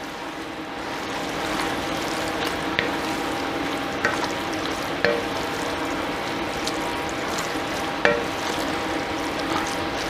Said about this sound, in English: All right, we'll give that a stir around.